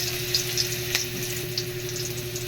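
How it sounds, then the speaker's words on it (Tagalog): Chopped ginger sautéing in a pan sizzles in a steady, close crackle with a few soft pops and a faint background hum, no voices. "Igisa lang natin yung luya. Nasa mag-brown konti."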